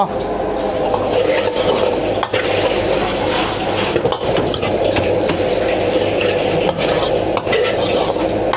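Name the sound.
stir-frying pork for khua kling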